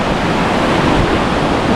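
The flooded Guadalquivir river near Ronda roars loudly and continuously, a dense rushing wash of water heard close with no talk.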